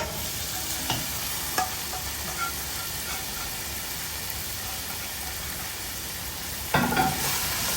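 Fried beef pieces simmering in a curry mix in a pan, a steady close hiss of sizzling with faint spoon taps and a louder stir near the end.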